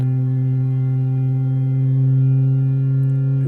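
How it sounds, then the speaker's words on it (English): EMS Synthi A patched in VCV Rack, with the output fed back for ring modulation, heard as a loud sustained buzzing drone with stacked steady harmonics and a slight swell partway through, alone with no voices. "So we just passed output channel to feedback for ring modulation"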